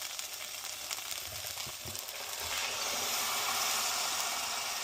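Soup ingredients sizzle steadily in a pan with coconut milk, a close, continuous frying hiss that grows a little louder and fuller partway through.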